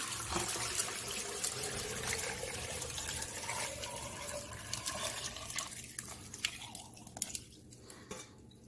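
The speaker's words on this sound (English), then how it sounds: "what I do is I fill the fuente or the glass with water" Water poured into a glass or small bowl, a close, steady trickling pour with faint splashing that continues throughout without any voices.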